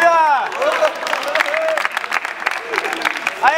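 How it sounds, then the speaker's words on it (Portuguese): A crowd at a rap battle claps and cheers in a sustained burst, with voices shouting over the applause. "As palmas aí, família!"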